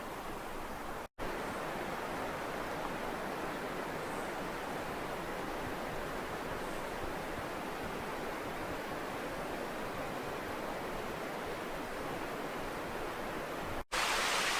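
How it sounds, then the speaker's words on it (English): A waterfall hidden behind thick jungle vegetation pours as a steady, faint broadband rush that stays even throughout, broken only by two brief dropouts and with no voices. "would you even know there's a waterfall behind all this?"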